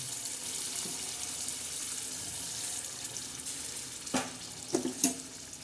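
Spiced water poured into a hot garlic and green chilli tempering in a kadhai gives a steady, close hiss and bubbling, with a few louder splashing bursts near the end.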